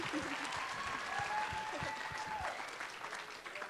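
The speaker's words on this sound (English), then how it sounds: "Can we hear a round of applause one more time for Uncle Ace and Uncle Jeremy?" Steady audience applause for performers at a college Hawaiian club luau, a continuous wash of clapping with voices mixed in underneath.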